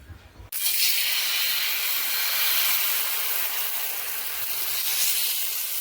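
Oil poured onto a hot dosa pan sets off a loud, close, continuous hiss that starts abruptly and holds steady throughout.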